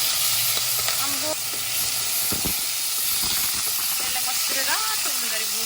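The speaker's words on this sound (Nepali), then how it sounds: "फर्स्टमा सुँगुरको मासु है भुट्छु है" Pork frying in a pan, a loud continuous sizzle and hiss with occasional stirring scrapes, while someone talks over the cooking.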